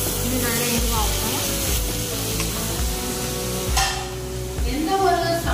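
Chopped tomatoes are tossed into a hot pan and stirred, a continuous close sizzle with repeated scraping strokes of a spoon against the metal.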